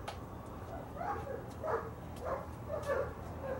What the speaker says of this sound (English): And here the dogs come.